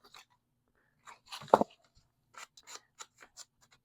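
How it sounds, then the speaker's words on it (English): Scissors cutting paper pieces off at an angle, a few soft, close snips and rustles spread out with quiet gaps between them. "I'm just cutting these off at an angle"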